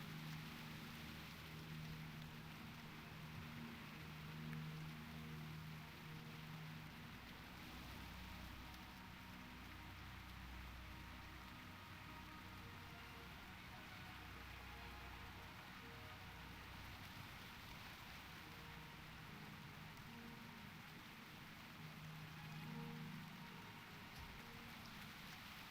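Rain falls steadily in World of Warcraft (Turtle WoW) as a continuous soft hiss, faint and unbroken for the whole stretch.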